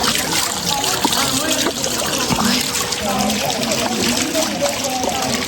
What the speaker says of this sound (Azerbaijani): Bulaq suyundan da əlimizi vuraq.